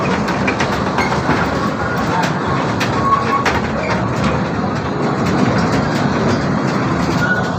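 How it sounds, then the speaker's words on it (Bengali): A railway ride at the Fantasy Kingdom amusement park rumbles along with steady wheel clatter and engine drone, loud and continuous, with a voice now and then over it. "ট্রেন জার্নিটা অনেক সুন্দর লাগলো।"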